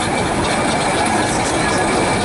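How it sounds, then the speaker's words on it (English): A Bowden steam wagon converted to a tanker rolls into a show arena at a steam vehicle rally, a steady loud mechanical rumble and clatter close by, continuous without pauses. "now we have a Bowden steam wagon basically, which is now a tanker, making its way into the position in the arena here"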